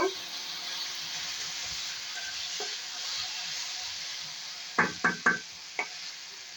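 A soft, steady sizzle of damp taro frying in a pan, followed by several quick metallic knocks of a utensil against the pan.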